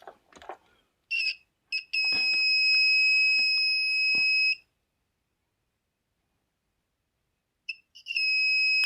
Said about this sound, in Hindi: ये कितने ओम्स तक अपना कंटिन्यूटी बीप बजाता है इसका भी देख लेते हैं